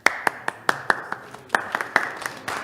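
Scattered hand claps for a city commission at the close of a public meeting, a dozen or so uneven, fairly sharp claps from a few people spread across a short moment in a quiet room.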